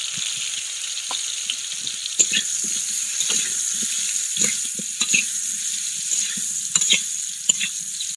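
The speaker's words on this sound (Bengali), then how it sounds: "তেলটা গরম হয়েছে, এখন আমি আলু ভাজিয়ে নিব।" Potatoes fry in hot mustard oil with a constant bright sizzle, while a spatula stirs and knocks against the pan in irregular taps throughout. Nobody speaks.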